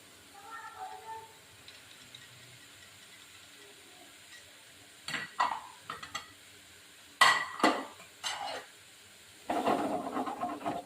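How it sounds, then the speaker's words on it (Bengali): Hot oil with gram-flour boondi frying, stirred in a pan: a faint steady sizzle with a few soft scrapes of a spoon, then sharper bursts of bubbling and clinking against the pan toward the end. "একটু এভাবে নাড়িয়ে নেব তেলটাকে"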